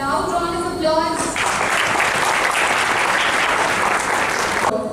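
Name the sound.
applause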